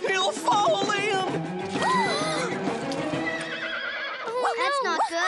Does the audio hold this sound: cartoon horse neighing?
yes